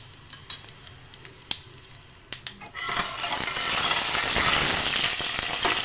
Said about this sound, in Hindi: राई और ज़ीरे को फ्राई करेंगे